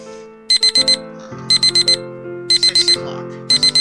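Alarm clock in the Doki Doki Club Meetings game rings in repeated bursts of four sharp electronic beeps, loud and close, over a looping background melody, with no talk.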